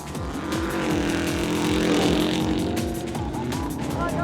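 A 1991 Subaru Legacy Turbo rally car is pushed hard on a stage, its turbocharged engine roaring and rising and falling through repeated gear changes, with some tire noise, loud and close.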